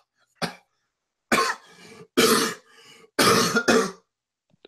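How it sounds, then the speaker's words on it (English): Several loud, close coughs come in quick separate bursts, each harsh and rasping, with short quiet gaps between them and no talking. "You went from a fake cough to a real cough."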